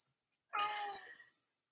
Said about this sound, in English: My kitty.